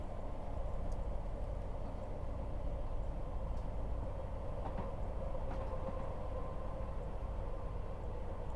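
A Fife Sprinter diesel passenger train in Train Sim World 6, running from Edinburgh to Leven on continuously welded track: a steady, close rolling rumble with a low engine drone and almost no rhythmic clickety-clack.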